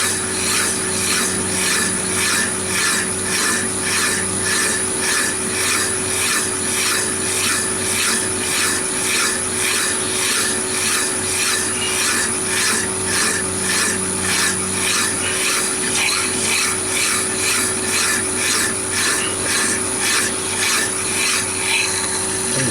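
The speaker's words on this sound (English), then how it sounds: "And then finish off with a less coarse file," A finer, less coarse hand file works metal turning on a lathe, giving a loud, steady rhythmic rasp of repeated strokes that runs continuously throughout, with no voices.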